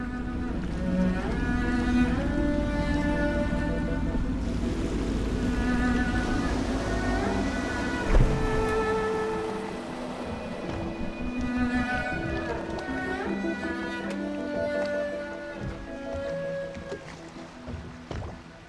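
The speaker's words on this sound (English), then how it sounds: "I should concentrate on piloting this boat." A steady low boat engine drone in the game Dishonored runs throughout, with lapping water and a background melody over it, and one brief thump midway.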